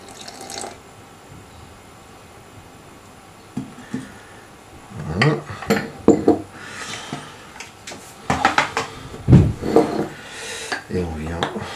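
Flour, salt and water mixed for a homemade sourdough starter, with irregular clinks and scrapes of a utensil against a bowl, some close knocks, and a voice talking intermittently between the clatter.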